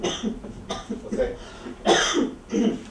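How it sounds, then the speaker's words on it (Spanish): A person coughs repeatedly, several harsh, close bursts with throat-clearing between them, loud and uneven in rhythm. "El doctor me dijo que la tos se me iba a quitar en unos cuantos días"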